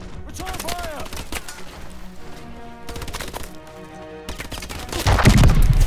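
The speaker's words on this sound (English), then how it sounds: "Return fire!" A firefight in Call of Duty: Advanced Warfare, with irregular bursts of gunshots and sharp cracks over a dense game soundscape, ending in a heavier low rumble.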